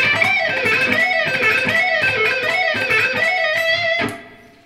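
A neoclassical shred lick rips fast on a distorted electric guitar. Rapid repeating arpeggio patterns cycle loud and steady, then stop abruptly and the sound decays away.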